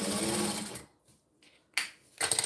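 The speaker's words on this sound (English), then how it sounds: "So that one's now sewed with wrong sides together" A sewing machine stitches thick cotton canvas up close, a loud, fast whirring burst that stops, followed by a few faint clicks and then another short run of rapid stitching.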